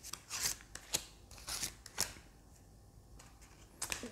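Tarot cards being shuffled and drawn: crisp, close riffling snaps and soft slides come in quick bursts, with a short quiet pause in between.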